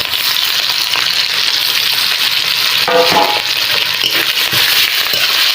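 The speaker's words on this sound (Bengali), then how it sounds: "মশলাগুলি ভেজে ভালো করে মশলাগুলি ভালো করে ভেজে নেবো" Spices sizzle steadily in a hot pan with green chillies and cumin paste while shol kochu is cooked with a hilsa head. The hiss is loud and continuous, with a few crackling spurts near the middle.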